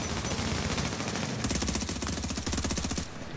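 Rapid automatic gunfire rattles nonstop through a video game shootout, loud and dense, with a faster burst in the middle. No voices are heard.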